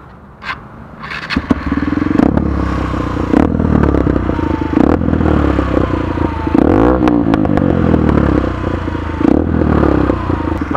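A Honda XR150L motard engine starts up and revs repeatedly, loud and close, with sharp throttle blips, crackles and some clattering over a rough idle.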